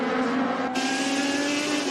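Race cars in the Hi-Tec Oils Super Series scream past at full throttle, a loud, sustained engine howl with steady pitch and a slight shift as the pack goes by.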